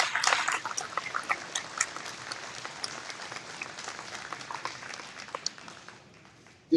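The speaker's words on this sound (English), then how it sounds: "Big round of applause for Rose." Audience applause at a rally, a dense round of clapping from a crowd that starts strong and tapers gradually over several seconds before stopping.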